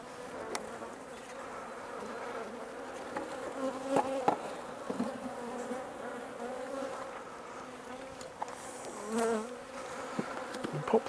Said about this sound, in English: they will collect all of these flying bees that are now starting to come back.